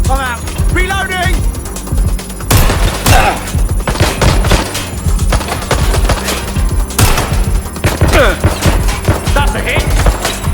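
Gunfire in Watch Dogs Legion: loud bursts of automatic shots and scattered single cracks with impacts, continuous and close, under frequent shouting voices.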